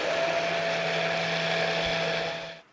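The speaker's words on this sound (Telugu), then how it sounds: "బాగా బ్లెండ్ చేసుకుందామండి దీన్ని." Blender whirring steadily as it mixes coffee soap batter with titanium dioxide pigment, a loud, even motor drone that holds for over two seconds before cutting off abruptly at the end.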